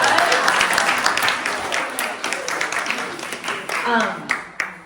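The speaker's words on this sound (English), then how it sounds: "I think she deserves a round of" An audience gives a round of applause, dense clapping that rises and then thins into scattered claps over about five seconds, with voices mixed in.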